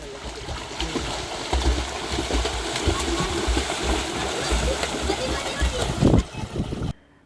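Water splashing from students and young people at swimming training in Kottakulam pond in Mullurkara, a steady busy splashing and stream-like wash throughout, with voices in the background and a stronger splash near the end.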